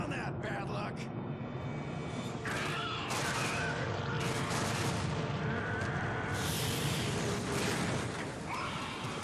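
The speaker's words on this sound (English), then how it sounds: "There's the gold bomb." A gold bomb blast in the shooter game Bulletstorm, a dense roaring explosion with booming, crackling debris that rolls on almost continuously, mixed with other game sounds and a voice talking over it.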